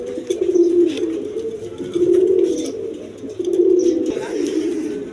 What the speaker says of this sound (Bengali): এক পেয়ার সুপার কোয়ালিটি শার্টিং কবুতর আছে